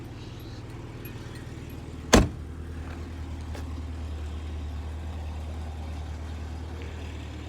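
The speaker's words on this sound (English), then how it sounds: "let's just go take a quick walk around, and you can listen to the engine" A 1985 Peugeot 505 GL engine idles steadily with a low, even rumble, broken once by a sharp clack early on; no voices.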